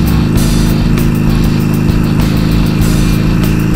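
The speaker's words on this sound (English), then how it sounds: "You got to give it a lot of gas on the Harley" A Harley motorcycle engine revving hard, a loud, close, continuous low rumble with a pulsing throaty beat throughout.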